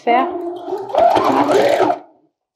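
A sewing machine stitches along the edge of suede fabric for a dress, its motor humming steadily through two bursts while a person talks over it.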